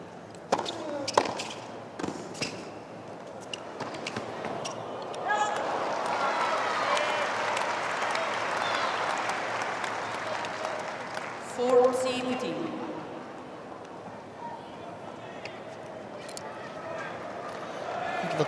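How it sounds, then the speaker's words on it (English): Scattered, light applause from the crowd at a 2023 US Open tennis match, rising briefly after a point amid general stadium murmur, with commentators talking over it. "There's a little applause from Paul."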